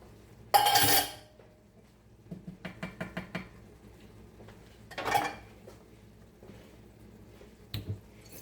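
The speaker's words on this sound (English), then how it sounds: "So now the mushrooms can go in." Mushrooms going into a pan for beef stroganoff: a soft wet thud and sizzle, then a quick run of light clinks and taps from a utensil, another squishy drop and a last clink, fairly close, with no talking.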